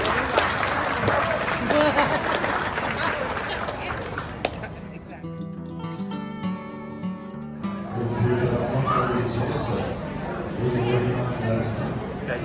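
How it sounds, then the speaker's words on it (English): Crowd applauding at a 4-H chicken show and judging in Dickson County, Tennessee, clapping and chatter at first, then a short lull with a tonal hum, then the clapping and crowd noise return under nearby voices. "Can we give them a round of applause while the judges make their decisions?"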